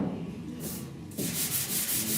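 A sanding block rubs over primer surfacer on the rust-pitted roof of a 1969 Chevrolet C10 truck. The rasping strokes are close and fairly quiet, with a brief pause before quicker back-and-forth passes.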